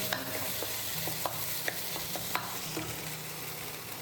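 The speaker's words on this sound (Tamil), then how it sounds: "இப்போ இந்த தக்காளி நல்லா வதங்குற அளவுக்கு" Tomatoes sautéing in a pan for a bachelor-style chicken gravy, a steady low sizzle broken by light, scattered taps of a stirring spoon, quiet and close, with no voices.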